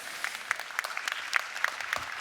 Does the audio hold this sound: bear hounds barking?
no